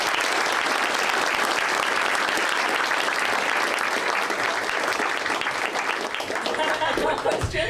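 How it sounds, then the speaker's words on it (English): A crowd at a city council candidate forum on transportation and sustainability gives the candidates a round of applause, steady close-packed clapping holding for the whole stretch before tapering near the end. "let's join hands and give them a round of applause"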